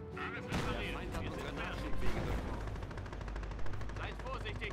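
Rapid automatic gunfire and explosions from the World War II strategy game Company of Heroes, a dense continuous battle din with a couple of louder impacts, heard under someone talking.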